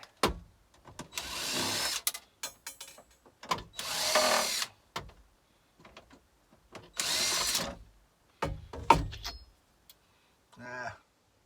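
A power tool working on a commercial hot beverage machine being dismantled, several short bursts of whirring, screw-driving noise separated by pauses, with clicks and handling sounds between.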